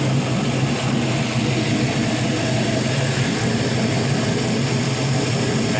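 A 5.3L LS V8 engine with about 140k miles and many new parts running steadily, a loud, close, even rumble at constant speed with no talk.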